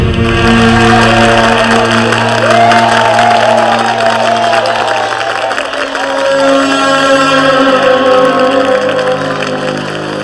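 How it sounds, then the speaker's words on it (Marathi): A theatre audience at a Marathi stage play bursts into loud, sustained applause mixed with cheering and whoops, filling the whole stretch without pause. "चेहऱ्याला रंग न लावता वाजणाऱ्या या टाळ्या ऐकू येत आहेत ना?"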